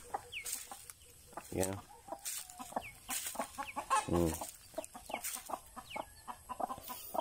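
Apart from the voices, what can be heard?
native rooster clucking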